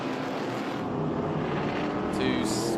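A 1969 Ford Mustang Boss 302, number 15, races at Laguna Seca during a historic Trans Am event, its engine roaring continuously and loud, with a race commentator talking over it.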